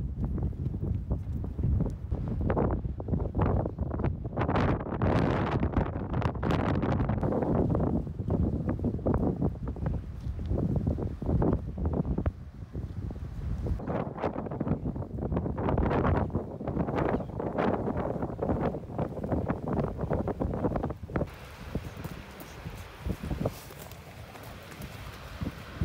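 Strong wind gusting across open ground in Iceland, loud and continuous with heavy buffeting on the microphone throughout, easing slightly near the end.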